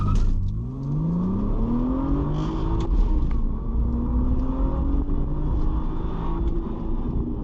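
A Lamborghini launches from a standstill with traction control off, its engine revving hard and climbing through the gears, loud and close throughout.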